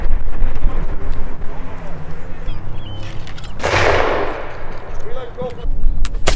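Redcoat musket volley fired at a Braemar Castle re-enactment, a loud broadband blast near the middle followed by a fading roar, amid shouted commands and crowd noise.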